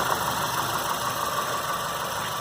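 A 2008 Mazda CX7 direct-injection turbo engine idles steadily up close, a constant hum layered with rapid, fine ticking from the fuel injectors.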